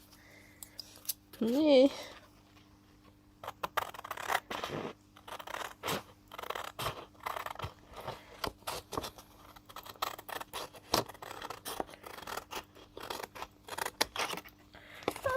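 Scissors cutting out lino prints on paper, a close run of crisp snipping and crunching cuts in irregular rhythm, with a person speaking briefly.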